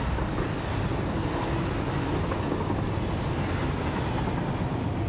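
A train in the Satisfactory video game rolls along with a dense, steady metallic rush and a thin high squeal of brakes running continuously at moderate loudness.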